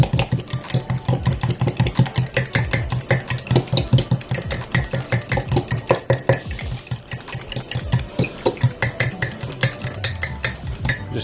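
Spaghetti carbonara stirred in a pan with turkey rashers, a rapid rhythmic scraping and clinking of utensil against metal repeating steadily, close and fairly loud, with a low hum underneath.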